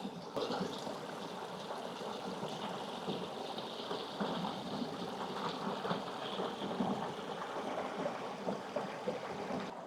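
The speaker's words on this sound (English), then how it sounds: "I don't know if you guys can hear that water, but just listen how" A small garden stream runs under a little footbridge, making a steady, close babble and trickle of flowing water that holds an even level throughout, with no talking.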